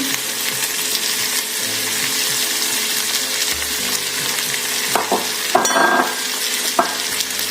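Garlic frying in a pan while stuffed chicken with vegetables is being prepared, a loud continuous sizzle with stirring scrapes and a few clatters toward the end, no talk.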